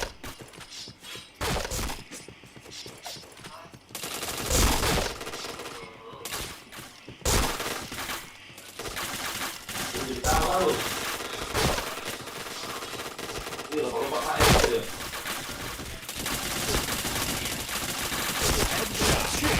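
Gunfire in a team-based shooter video game, with dense bursts of automatic fire and single shots crackling across the whole stretch alongside clanking mechanisms, loud and near, without talk.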